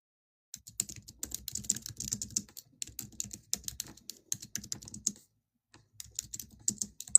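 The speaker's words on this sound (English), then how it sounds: "She is typing." Fingers type on a computer keyboard in bursts of quick, close clicks, pausing briefly between runs, with no voices present.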